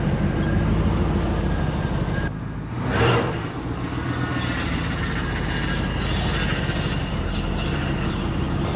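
A 1984 Chevrolet Monte Carlo SS with a carbureted small-block V8, revived after sitting 22 years, runs steadily at a rough idle, a continuous low rumble with a brief swell in revs partway through, close and without speech.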